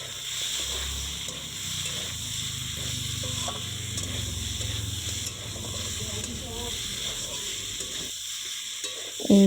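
Chopped tomatoes being stirred into a frying pan with ginger and garlic for a prawn, eggplant, potato and pea curry, giving a steady close sizzle with soft scraping stirs throughout and a brief louder clatter at the very end.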